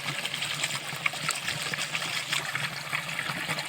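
Water gushes steadily from a newly drilled borewell, a continuous close splashing trickle that runs evenly without pause.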